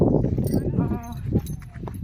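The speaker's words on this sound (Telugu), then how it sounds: "గొర్రెలు మందలు అన్నీ ఇక్కడే ఉంటాయి" A flock of sheep grazes near a rural walking path, with one short bleat rising briefly amid outdoor noise while a person talks over it.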